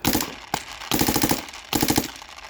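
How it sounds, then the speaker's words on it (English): A Planet Eclipse EMEK 100 paintball marker with a full auto switch and Speedster loader fires in three loud, rapid bursts of close, sharp, rattling shots separated by short pauses. "So I'm going to start firing. Hopefully it can keep up."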